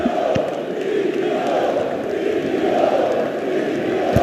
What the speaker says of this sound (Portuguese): Torcida do Vasco grita Vasco, Vasco, Vasco.